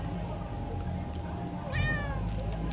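A single cat meows once, clear and fairly close, over a constant low background hum.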